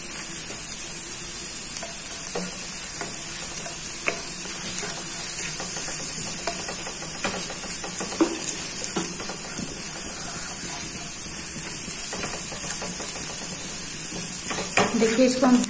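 Cabbage sizzles and stir-fries in a pan for a chicken spring roll filling. A constant hissing fry fills the whole stretch, with scattered light clicks and scrapes of the spatula and a louder rattle at the end.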